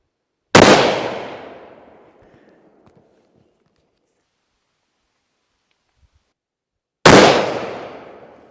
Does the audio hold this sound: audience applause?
no